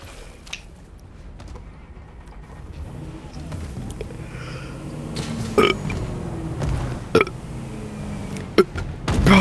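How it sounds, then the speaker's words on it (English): Repeated burping after chugging four bottles of root beer: several short, sharp belches come through over low background rumble and noise, growing louder toward the end. "Bro, instead of breathing, I just burp."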